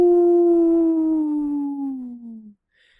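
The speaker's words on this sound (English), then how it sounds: "These are the wolves howling" A single long, mournful howl from a wolf in Yellowstone, with a steady tone that slowly sinks in pitch, fading out after a couple of seconds, followed by near silence.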